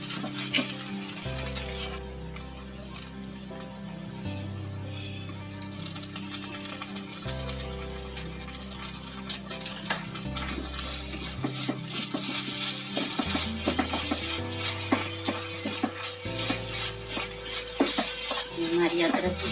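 Ginger chutney with sauce frying in a pan, soft steady sizzle with the occasional scrape and clink of a stirring spoon against the pan, close and fairly quiet.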